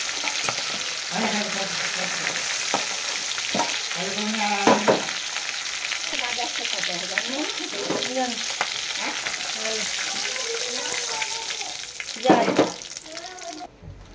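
Pieces of katla fish sizzle and crackle steadily in hot oil, with occasional stirring clatter and a louder burst of spattering near the end, no voices present.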